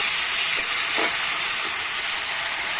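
Ground garlic, onion and ginger paste fries in a pan, a steady bright sizzle and hiss held close throughout, with a couple of faint stirring scrapes and no voices.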